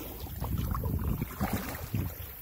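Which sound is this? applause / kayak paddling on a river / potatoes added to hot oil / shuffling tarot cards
kayak paddling on a river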